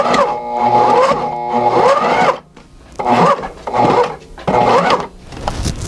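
A Sailrite heavy duty industrial sewing machine stitches a seam slowly, running loud and close in three or four rhythmic whirring bursts with brief pauses between them.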